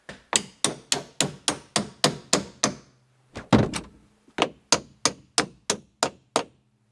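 A door hinge being bent into shape with repeated hammer blows on a household door, a fast run of sharp loud metallic knocks, a pause with a heavier thud, then another even series of close strikes, with no talk.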